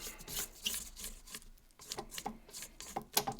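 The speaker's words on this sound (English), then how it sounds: "Scrape everything down." A spatula scraping down the sides of a bowl of cookies-and-cream brownie batter, close and quiet, with a steady series of rough rasping strokes and small clicks against the bowl.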